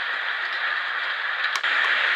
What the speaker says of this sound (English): And that's the white noise.